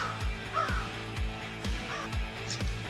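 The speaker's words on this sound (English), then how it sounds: "hopefully we'll see a murder of crows" Crows caw loudly and close by in a rapid string of harsh calls, roughly a dozen in under three seconds, with a steady uneven rhythm and no other sound competing.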